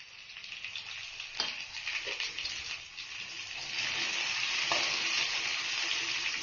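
Onions, green chilies and curry leaves frying in oil for a carrot egg curry, a close, moderately loud crackling sizzle with a few stirring knocks, swelling and steadying in the second half, no speech.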